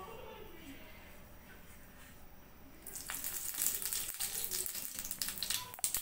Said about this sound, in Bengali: দেখেন সরিষাটা চটপটিয়ে ফুটছে